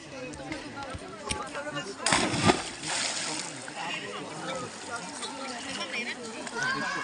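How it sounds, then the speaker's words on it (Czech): A splash into water cuts through a noisy outdoor scene, with people chattering and calling nearby before and after the plunge. "pojď mě natočit, jak tam stočím"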